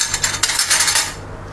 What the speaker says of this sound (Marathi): चमच्याने एकदा हलवून घेते